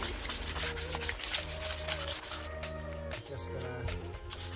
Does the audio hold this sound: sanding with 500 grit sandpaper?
yes